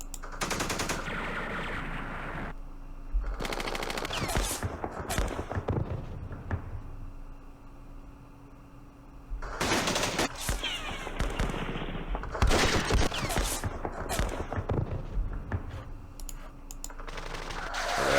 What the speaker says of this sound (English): Oh, look at all these machine guns we have. Let's do that.